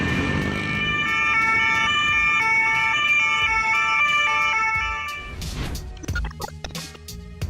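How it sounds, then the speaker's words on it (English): Ambulance siren wailing in traffic with a police escort in Poland, loud and close with repeating tonal sweeps, then fading as road noise and clatter take over near the end. "when accompanied by a police caravan, the sirens are always more convincing"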